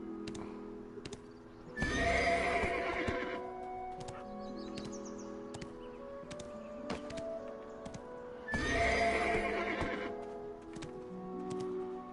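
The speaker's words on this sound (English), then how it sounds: "That's my horse." A horse in the Black Desert video game whinnies loudly twice, and the long neighs are separated by clip-clop hoofbeats and ticking game sounds at close range.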